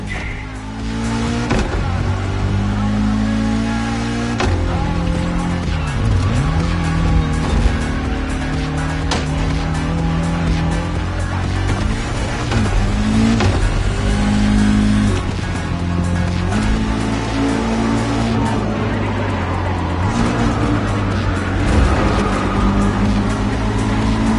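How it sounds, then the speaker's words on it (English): Cars roar and rev in the Motorfest racing game, engine tones rising and falling through gear changes as a loud, continuous, close drone with no speech. "Some impressive machines these guys are driving."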